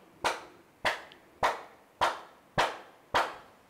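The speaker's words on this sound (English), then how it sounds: "Clap your hands." Children clap their hands together in six evenly spaced, sharp, loud claps, about once every half second, with no talk between them.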